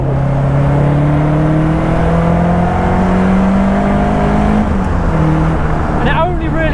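The naturally aspirated 1.6-litre engine of a Caterham 310R road-legal sports car revs hard with rising pitch, drops at a gearshift, and climbs again. Loud and close from the cabin, with wind noise near the end.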